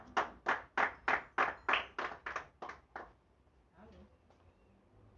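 A church congregation claps in unison, about ten sharp, evenly spaced claps over three seconds, then stops, leaving a quiet room with faint murmurs.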